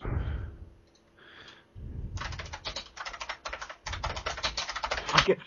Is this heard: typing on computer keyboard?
yes